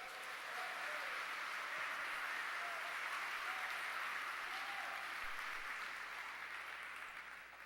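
A church congregation applauds together in one sustained burst of clapping, even and fairly distant, with no one speaking over it.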